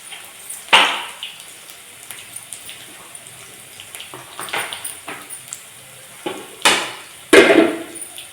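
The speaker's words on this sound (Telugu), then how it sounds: "తెల్లంపాయలు పచ్చి పచ్చిగా దంచుకోవాలి" Raw garlic is pounded for a village-style leafy greens dish: scattered, irregular thuds and knocks in a quiet kitchen, with the heaviest blows near the start and end.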